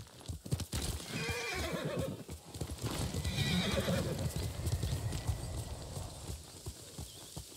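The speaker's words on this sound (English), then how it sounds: "This horse either walks or sprints." Hooves clip-clop steadily as a horse moves in the samurai game Ghost of Tsushima, with a clear neigh and whinny rising partway through, close and fairly loud.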